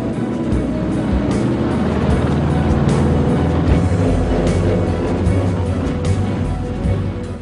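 A Martin B-26 Marauder twin-engine bomber taking off, a loud, continuous roar of piston engines with a rough, pulsing drone that stays close and steady throughout.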